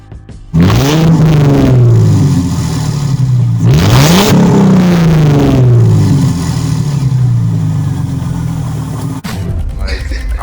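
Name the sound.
Mercedes Benz S Class engine revving during a burnout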